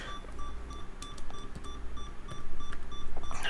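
Beeping in The Legend of Zelda video game, a fast string of repeated electronic beeps pulsing steadily over a low hum, growing slightly louder toward the end.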